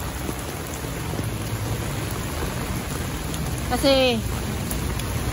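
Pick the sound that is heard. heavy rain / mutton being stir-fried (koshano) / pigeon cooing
heavy rain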